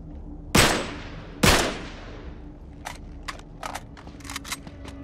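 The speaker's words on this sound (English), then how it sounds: "Back up, I'll shoot the lock." Two sharp gunshots ring out close together in Uncharted 3 as a lock is shot, each with a decaying tail, followed by a scatter of lighter clicks and clinks.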